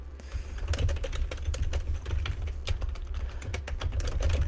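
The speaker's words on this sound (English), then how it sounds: "Let's see what one pulls up when I type it in though." Fingers tap out a search on a computer keyboard in a run of quick, uneven clicks over a low steady background hum, close and moderately quiet, with no talking.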